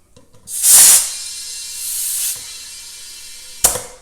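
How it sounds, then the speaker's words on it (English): Loud bursts of hissing air spray close by as a mini bike tire is inflated, a strong rush followed by a steadier stream, then a brief sharp puff at the end. "we'll put some air in here"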